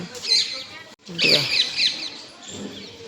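Parrots give bright chirping calls at dusk behind a village house, fairly close and in a few bursts, while a person talks over them.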